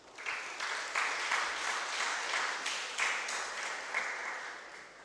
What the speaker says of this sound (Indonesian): Kita berikan tepuk tangan untuk para orang tua kita.